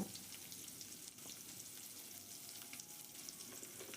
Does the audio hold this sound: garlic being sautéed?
yes